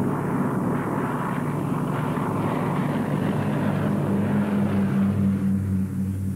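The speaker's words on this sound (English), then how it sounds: "the skies were full of planes" World War II-era aircraft drone steadily overhead, a continuous engine roar with a low tonal hum that holds throughout, no voices.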